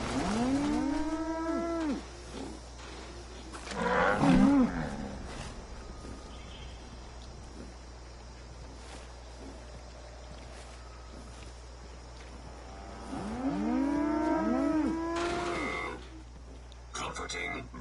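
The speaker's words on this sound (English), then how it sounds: "Comforting moo." Cow mooing in the video game Fallout 76, two long drawn-out moos near the start and end with a short snort between, over quiet ambient hum.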